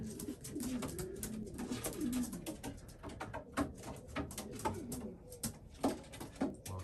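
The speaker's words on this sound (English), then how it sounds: "The pigeons, you've got to be on the ball with them." Racing pigeons cooing in a loft, a dense chorus of soft repeated low coos close by, mixed with wing flutters and occasional knocks and scrapes.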